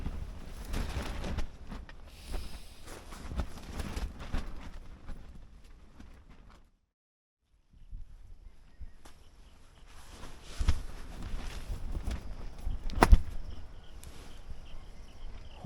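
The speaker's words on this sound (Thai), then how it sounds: "ไอ้นี่เสียงดังนะครับลมมันแรงมันพัดปับปุบปับปบปับทั้งคืน" Tarp flapping and snapping in strong, gusty wind at a mountain camp during a storm, with irregular bursts of fluttering, a brief lull midway, then louder gusts returning.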